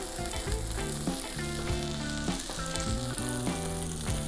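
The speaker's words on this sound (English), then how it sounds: "Okay, we're gonna just add 2 eggs." Eggs sizzling loudly in a hot pan alongside fried rice, cooked in wagyu fat, a steady dense crackle running unbroken from start to finish with no voices.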